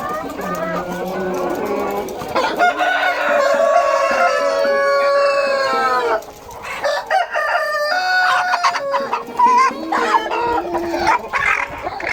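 Tiger-breed roosters weighing 5-6 kg crow loudly and close by, with overlapping calls and clucking hens, while someone talks over the birds.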